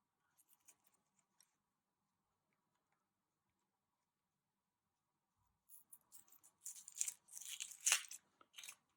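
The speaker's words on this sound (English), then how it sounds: "And you peel your other half of your onion." Dry onion skin peeled off half an onion, a few faint crackles followed after a quiet pause by a close burst of papery tearing and rustling.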